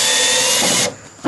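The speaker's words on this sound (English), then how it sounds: "if you are able to put your drill up underneath here, you can easily fit it onto the nut." A power drill whines loudly while loosening a nut on a Hustler lawnmower, then cuts off abruptly near the end, followed by a brief clack.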